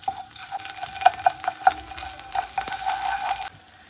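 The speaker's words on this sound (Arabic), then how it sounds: "راح اخذ خاشوقة واحدة من معجون الطماطم واقلبهم بالزيت الزيتون زين" A spoonful of tomato paste is stirred into olive oil in a pan, with sharp spoon scrapes and taps against the pan over a soft sizzle, busiest in the middle before falling quiet.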